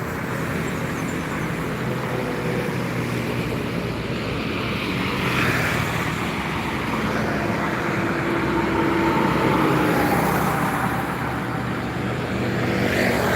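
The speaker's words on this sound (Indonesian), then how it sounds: "bus dan truk yang melintas sekitar Palembang, Jalan Lintas Timur" Buses and trucks pass on the Jalan Lintas Timur highway near Palembang, giving a constant broad traffic rumble that swells slightly as vehicles approach and pass, with no talk over it.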